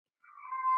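A pet cat lets out one short, rising meow, close and fairly loud, with nothing else around it.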